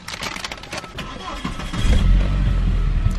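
A raggare car engine cranks and catches, then settles into a loud, low, rumbling rev that swells and holds steady, with muffled voices from inside the car early on.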